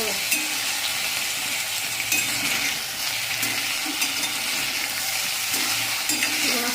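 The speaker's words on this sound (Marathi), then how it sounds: "असं हलवून घ्यायचं" Potato sabzi is stirred in a hot pan, with a continuous sizzle and repeated rhythmic scraping strokes of the spoon heard up close throughout.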